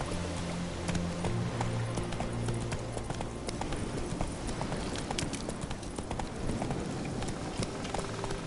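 Roach, the horse from The Witcher 3, gallops in a steady clip-clop of hooves that stays loud and close throughout, with game ambience running underneath.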